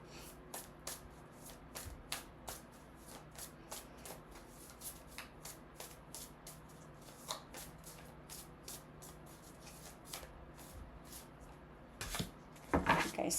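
Tarot cards are shuffled by hand, giving a quick series of crisp riffling bursts at a fairly regular rhythm, close and moderately quiet, with a denser flurry of card snaps at the end and no talking.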